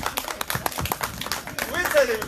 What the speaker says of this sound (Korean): 조용하면서도 따뜻한 박수로 모셔보도록 하겠습니다